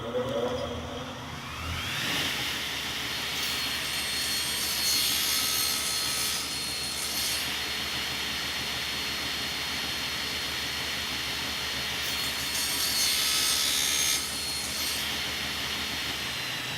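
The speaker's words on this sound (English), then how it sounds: "We're going to cut these and then we're going to test the width." A power saw cuts through two wooden pieces for a hexagonal jewelry box at once, a loud continuous whining roar that spins up and holds steady for the length of the cut.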